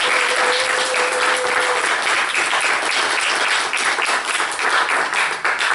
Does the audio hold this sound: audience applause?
yes